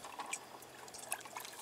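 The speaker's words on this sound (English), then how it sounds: "you take 1/4 cup of vegetable glycerin. You can get it anywhere. Pour that in and mix that up." Vegetable glycerin poured into a mixture and stirred, giving soft, faint liquid splashes and drips that come and go briefly.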